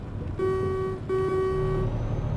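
Truck horn in Euro Truck Simulator 2 on a mine road near Kirkenes, blaring in two sustained steady blasts, the first about half a second long and the second longer, loud over a low engine rumble.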